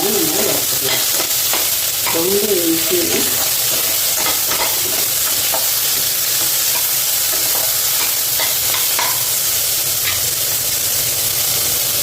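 Onions frying with salt in a pan for potato biryani, a loud steady sizzle with repeated scraping stirs and a few soft clinks throughout.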